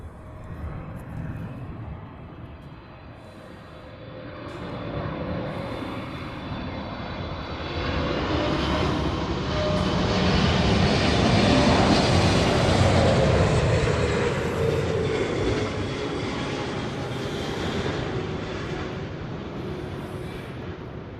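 Jet airliners arrive and depart at LAX, heard from the north side of the airport, as a broad engine roar that swells to a peak around the middle and then slowly fades, steady and fairly loud.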